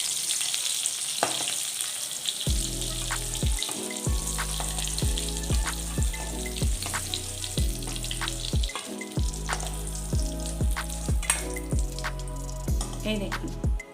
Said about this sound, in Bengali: এই দেখুন পটলগুলো আমার ভাজা হয়ে গেল